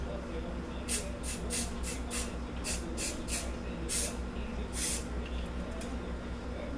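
A spray paint can hisses in a rapid run of short, sharp bursts as spray paint art of an ice phoenix is made, fairly close and steady, over a low background hum.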